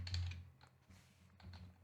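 Rapid typing on a computer keyboard, a close run of quick plastic key clicks in short bursts with a brief pause midway, no talking.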